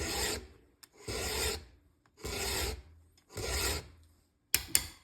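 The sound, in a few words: hand file sharpening a chainsaw tooth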